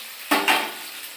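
Onions and green chili hit hot oil in a pan, giving a brief, sudden sizzling burst that quickly settles into a soft hiss.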